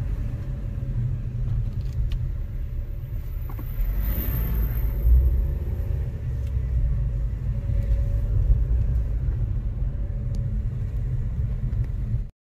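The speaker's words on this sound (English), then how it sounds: "We are driving around Caldera de Taburiente on La Palma Island." Steady low engine rumble of a car driving along a mountain road around the Caldera de Taburiente on La Palma, a continuous near drone with road noise and no talk.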